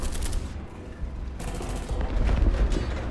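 Tank cannon and gunfire from a T-60 light tank in the War Thunder combat game, a dense sustained barrage of overlapping shots and blasts. It continues steadily across the clip with no speech.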